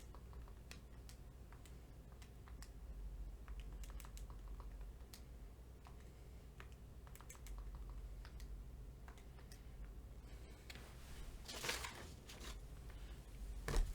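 Keys on a calculator are pressed in a quiet series of light, irregular taps over a low background hum, with a slightly louder clatter near the end.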